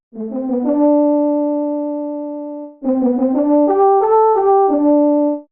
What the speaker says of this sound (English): the same line written for a brass sound font